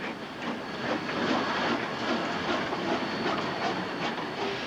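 A large steam locomotive hauls a train along rails with a steady, loud rumble, a faint hiss of steam and a light rhythmic clatter of wheels throughout, with no talking.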